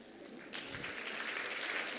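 An audience at a women's health and wellness event breaks into applause. The clapping starts abruptly and holds as a dense, steady wash of many hands, moderately distant and with no speech over it.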